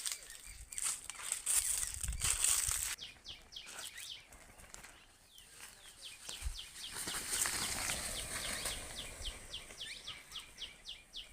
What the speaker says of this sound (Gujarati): મોરલા ઉડ્યા તો મોરલા